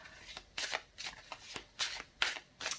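Tarot cards being shuffled by hand, a quick run of crisp riffling bursts repeating in an uneven rhythm, close and fairly loud with no talking.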